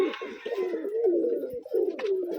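Pigeons close by give soft, throaty coos in a short run of rolling, repeated calls.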